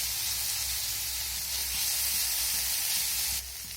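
Onion, ginger and garlic fry in hot oil while being stirred, making a loud, steady, close sizzle with a hissing texture that drops slightly near the end.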